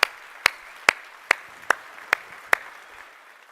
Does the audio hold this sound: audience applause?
yes